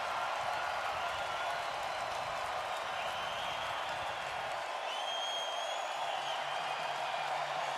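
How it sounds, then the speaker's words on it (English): Sustained ovation from Oilers fans in a hockey arena during a playoff game, a dense, distant wash of applause and crowd roar holding steady at moderate level, with faint whistle-like tones drifting through. "What an absolutely amazing ovation."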